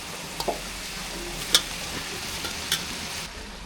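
Onion, tomato and ginger-garlic paste sizzle softly in a pan while being stirred, with a few light scraping clicks of a spoon against the metal.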